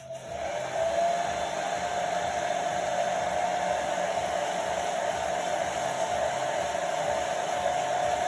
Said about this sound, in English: my top tip is get your hairdryer. So I'm going to just give this a little blast.